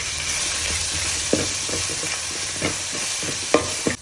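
Crushed ginger and garlic fry in a pan of masala while being stirred, a continuous close sizzle broken by sharp spoon scrapes and taps against the pan.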